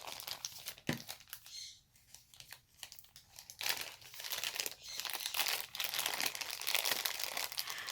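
Thin plastic packaging bag crinkling and rustling up close while an ArtSnacks art-supply box is unboxed, with irregular bursts of crackle that grow busier and more continuous in the second half, no talking.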